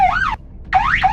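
A police siren from a car in the Roblox game Greenville wails in two rising and falling sweeps, loud and close, with a short silent gap between the bursts and no voices.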